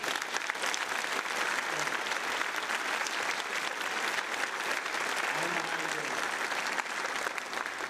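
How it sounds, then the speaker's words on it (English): Audience at a Navy ceremony applauding a national anthem singer, a thick, continuous wash of clapping at steady loudness throughout, with faint murmuring underneath. "how about a round of applause for that national anthem?"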